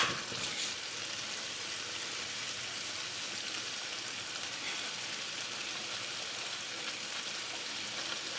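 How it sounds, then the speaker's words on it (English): Canned diced tomatoes go into a pot of chili with beans, producing a steady wet sizzling hiss like light rain that carries on evenly for several seconds with no talking. "I'm going to be adding the tomatoes to it"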